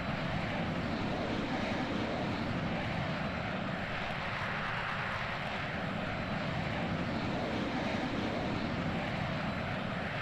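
A Boeing B-52 Stratofortress taking off in Microsoft Flight Simulator 2020, its jet engines a constant, dense, roaring rumble that holds steady at high power throughout, with no voices.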